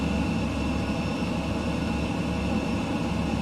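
Low-level flight in Microsoft Flight Simulator 2020: the plane's engine gives a constant, loud, droning roar with a steady rumble through a bumpy ride.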